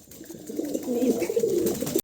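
Pair of pigeons, a fill-bag female and a male, cooing close by in a soft, continuous low warble lasting about two seconds.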